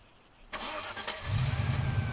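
A car engine starts up in the military game ARMA 3, a brief starter crank and catch followed by a steady, low rumbling idle, close and moderately loud with no talking.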